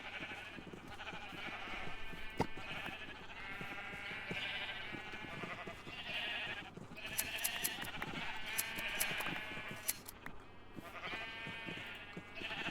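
Sheep in the Minecraft video game bleat repeatedly over a steady bed of game music and ambience, with several short bleats overlapping at moderate loudness.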